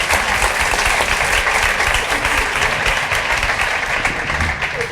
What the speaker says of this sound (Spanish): esos aplausos son casi los aplausos finales